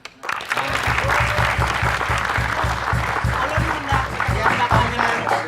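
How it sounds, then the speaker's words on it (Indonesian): Steady applause from a studio audience at a regional television talk show, dense clapping filling the whole stretch at close range with no talk over it. "Jadi kita beri tepuk tangan ya."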